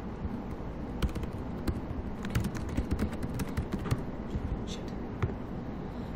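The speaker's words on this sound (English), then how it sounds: "I'm just typing it here so it's notes for you." Typing on a computer keyboard, a quiet, irregular patter of individual key clicks over a soft background hum.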